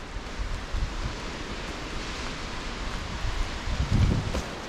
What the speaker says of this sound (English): Isn't that wind though?